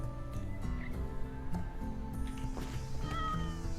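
A cat meows in a short whiny call in Rimworld, faint and mixed into a dense layer of background music and tones.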